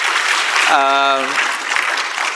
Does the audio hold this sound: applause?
yes